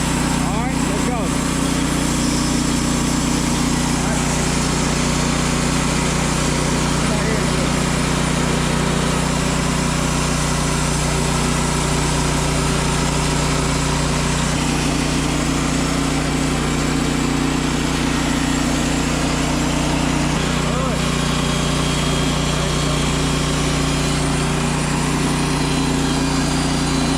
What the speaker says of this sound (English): Let me engage the blade. Now spinning.